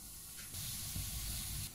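Zucchini slices dusted in flour fry on a very hot griddle with a steady, close hiss that swells louder about halfway through and stays even, with no voices.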